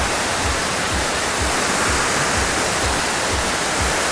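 The waterfall at Turtle River Falls and Gardens gives a loud, steady rushing roar of falling water that holds unbroken throughout, with no voices.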